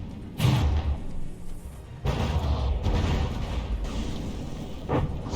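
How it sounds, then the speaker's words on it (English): Explosions from a From the Depths naval battle with missiles and shells aimed at stealth torpedo bombers, heavy booming blasts at about 0.4, 2.0 and 5.0 seconds over a steady rumbling wash of combat. "Explosions going off, hammering at the stealth torpedo bombers of the boss squadron."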